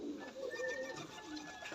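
Tumbler pigeons at a large pigeon farm in West Bengal coo close by, a soft rolling call repeating steadily over a faint outdoor background with no talk.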